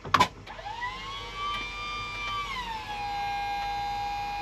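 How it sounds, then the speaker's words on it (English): An electric hydraulic pump on a John Deere tractor whines as it powers up after a short clunk, its steady tonal hum rising and then settling to a lower even pitch, close by with no talk. "if you listen, you'll hear the pump. There's an electric pump on the tractor."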